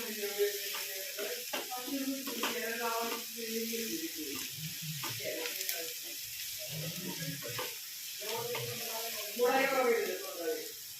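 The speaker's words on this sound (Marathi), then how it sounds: "चवीनुसार मीठ, घालून कांदा पुन्हा एकदा परतून घेऊ." Sliced onion frying with salt in a pan for Maharashtrian poha, a soft steady sizzle under continuous talking.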